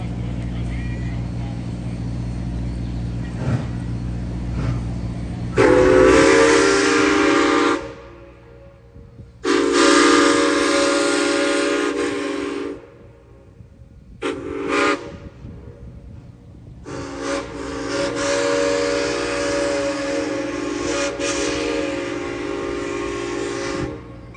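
A loud, blaring locomotive horn sounds in several long blasts with short gaps, over the steady rumble of a train rolling past.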